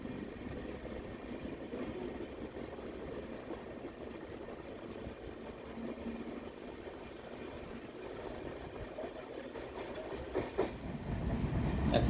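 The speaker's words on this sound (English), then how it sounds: "That's the Ernakulam Nizamuddin Duronto Express." The Ernakulam Nizamuddin Duronto Express passes at night, heard from a distance as a low, steady rumble of wheels on rails that grows slightly louder toward the end.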